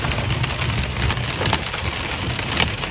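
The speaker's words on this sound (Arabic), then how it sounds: "نزل علينا برد بغى يكسر الجام صراحة" Heavy hail pelts down near a pedestrian footbridge by a highway in Al-Wafra, Kuwait, a dense, loud, continuous clatter of hard impacts with scattered sharper cracks and no voices.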